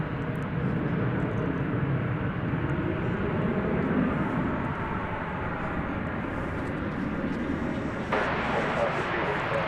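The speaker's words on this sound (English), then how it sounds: "American Flight 2720 to Tucson, Arizona. There you see it. It's an Airbus A321." An American Airlines Airbus A321 bound for Tucson, Arizona, roars steadily at a distance from an airport, a broad, continuous jet rumble and hiss holding for nearly ten seconds.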